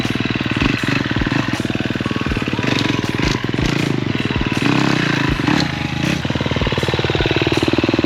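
A KTM XC-F dirt bike idles with a clattery, pulsing thump, broken by repeated sharp throttle blips about every half second as it is worked over a log, close up and loud.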